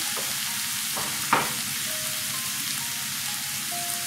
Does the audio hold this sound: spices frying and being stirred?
yes